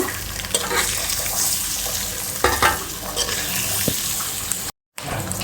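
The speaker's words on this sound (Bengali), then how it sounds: "ডিমটা খুব সুন্দর করে ফ্রাই করে আমি তুলে নেব" An egg frying in oil in a pan with onions, a loud close crackling sizzle with repeated scraping stirs, steady apart from a short break of silence near the end.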